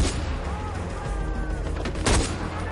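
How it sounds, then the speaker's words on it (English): Gunfire in the open-world shooter Far Cry 4 during a fortress assault, a dense rattle of shots with one louder close burst near the end, over constant battle noise. "Stop shooting me, you twat."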